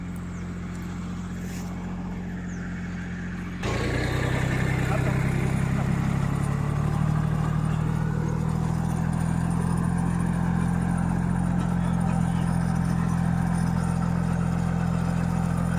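A tractor engine runs steadily in a field overgrown with grass after rain, starting near and loud a few seconds in and holding a continuous low drone throughout.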